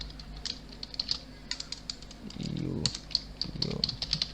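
Keys tapped on a computer keyboard while entering a database name during a WordPress installation, a quick run of light, crisp clicks at moderate level with a low murmur of background voice midway.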